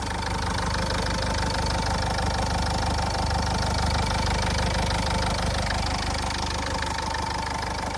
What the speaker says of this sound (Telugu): ఇంజన్ చాలా స్మూత్గా ఉందండి.